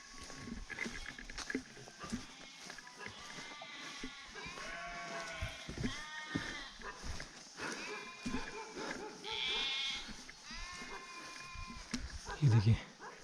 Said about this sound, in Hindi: कुछ बीच बीच में भेड़ बकरियों की आवाज़ें आ रही हैं